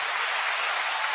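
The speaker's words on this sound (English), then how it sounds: "The applause doesn't stop." Continuous, dense applause from a crowd, a steady even wash of many hands clapping at constant loudness with no talking.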